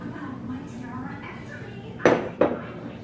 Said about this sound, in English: So I'm going to stir that in now, get all the rice mixed in